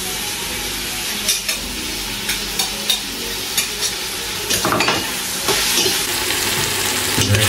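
Shrimp sautéing in a hot pan, a steady close sizzle with intermittent scrapes and clatter from stirring throughout.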